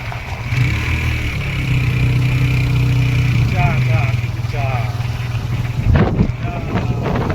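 A motorbike riding through a tea garden in Goalpara district, Assam, its engine humming steadily close by under wind buffeting on the microphone, with people talking over it.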